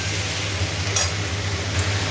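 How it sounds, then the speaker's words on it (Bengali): Vegetables with turmeric fry in a pan, a steady close sizzle with light stirring underneath and a low constant hum, no voices. "এবার একটু হলুদ দিয়ে ভালো করে নাড়াই।"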